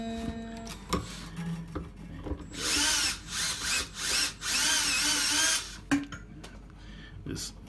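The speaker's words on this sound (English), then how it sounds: "because it is a speed drill, so you don't want it to over torque at any point" A speed drill winds a steel guitar string on a slot-head steel-string guitar, whining in several loud bursts that rise and dip over about three seconds, framed by clicks and handling knocks.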